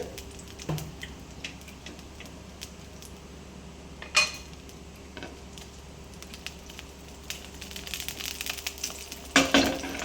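Oil heats in a pan for a prawn masala, giving a faint, low sizzle with scattered clicks and the odd clatter of cookware, then a brief louder crackle near the end.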